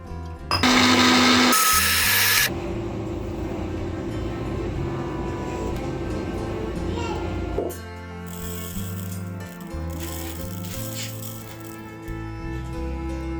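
A mixer grinder whirring loudly and steadily as it grinds chutney with tamarind and water, starting with a harsh high burst, then running in a sustained roar with a brief change in pitch midway.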